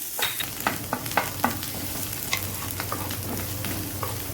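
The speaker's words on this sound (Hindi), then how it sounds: "गार्लिक के क्रश किया हुआ वो डालेंगे और ग्रीन चिली, और इसको अच्छी तरह फ्राई करेंगे" Crushed garlic and green chili fry in hot oil while pizza is being made, giving a steady close sizzle broken by brief scraping stirs of a spoon against the pan.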